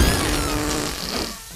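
A loud, drawn-out fart sound effect blares for well over a second, a raspy, buzzing sputter with no voices.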